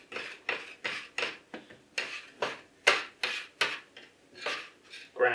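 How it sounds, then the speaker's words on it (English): A dough scraper rasps across a floured surface as bread dough is shaped into balls, about a dozen short rhythmic scraping strokes, close and fairly soft. "Just going to try and get them into slightly better ball shapes using our scraper"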